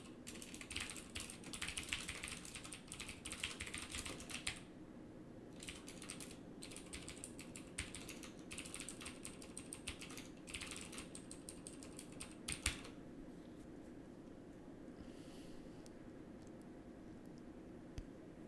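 Steady typing on a computer keyboard, rapid clicking keystrokes in bursts with short pauses, close and fairly quiet with no talk.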